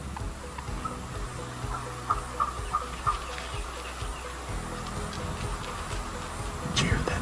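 An Osceola wild turkey hen calls in the South Florida woods, a short run of distant clucks standing out over steady outdoor hiss and rustle.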